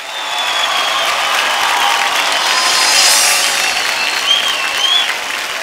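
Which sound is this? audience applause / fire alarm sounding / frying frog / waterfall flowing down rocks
audience applause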